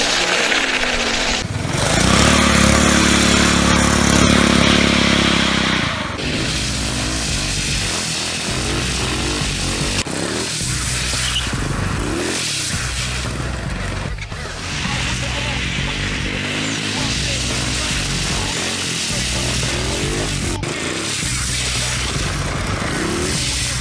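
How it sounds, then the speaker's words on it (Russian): A drift trike's small engine buzzes and revs steadily for the whole stretch while drifting, loud and close, with a surge in pitch early on and no talking. "Дрифт-трайки"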